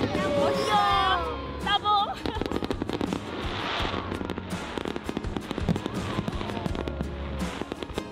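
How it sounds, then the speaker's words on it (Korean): Fireworks burst over floating lanterns at a festival in Jinju, South Korea, a rapid run of loud pops and crackles with whistling rises early on, while people talk and exclaim nearby. "불꽃놀이가 유등과 함께 어우러져 환상적인 분위기를 만듭니다."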